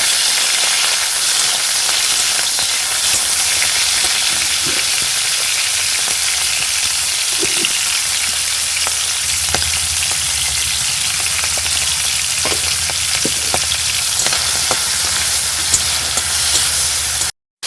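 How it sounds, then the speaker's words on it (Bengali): Okra, potato and ridge gourd sauté in a hot pan with a loud, continuous sizzle and hiss, broken by occasional stirring scrapes and clinks. "এই যে সবজি তরকারিটা একটু কষিয়ে নিচ্ছি"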